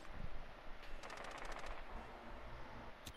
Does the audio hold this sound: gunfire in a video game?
yes